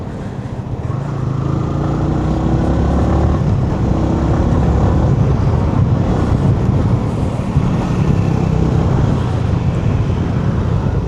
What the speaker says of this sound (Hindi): विनफास्ट वाले ने एकदम एक्सीलेटर दिया।